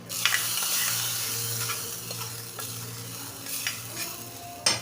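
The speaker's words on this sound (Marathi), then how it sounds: "अशी चुरचुरीत फोडणी घालायची" Hot garlic tempering is poured into a cooked leafy vegetable dish, setting off a brief sizzle that settles into soft crackling, while a spoon scrapes and stirs in a few light strokes and one louder clink comes at the end.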